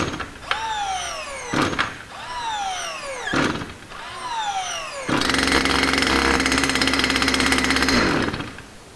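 A Stihl FR 460 TC-EFM backpack brushcutter: a few sweeping tonal whirs, then its engine runs loud and steady with a buzzing drone for about three seconds before cutting out.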